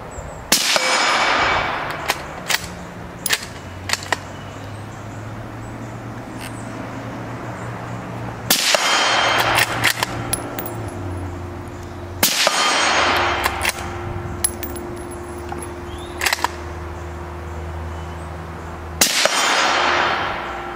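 A bolt action rifle that takes standard AR magazines fires several loud, sharp shots spaced seconds apart, some followed by a ringing metallic clang from a steel target.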